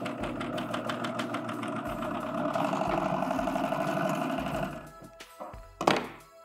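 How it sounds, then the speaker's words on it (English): A serger sewing machine runs in fast rhythmic bursts while finishing a seam on a Santa hat, whirring and thumping up close, then stopping with a few clunks. "When you get to where you started, overlap your stitches by about a half inch and then serge off."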